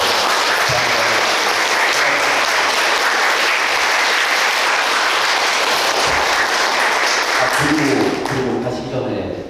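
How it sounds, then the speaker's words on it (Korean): Dense, steady applause fills an indoor screening room as a film festival audience claps for several seconds after a post-screening talk, loud and unbroken, fading slightly at the very end. "큰 박수 보내주십시오."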